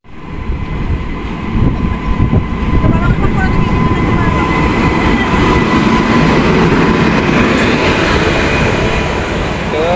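A train at a railway station rumbles loud and close with a steady roar, high metallic wheel squeals drawn out over the top and a clickety rhythm underneath.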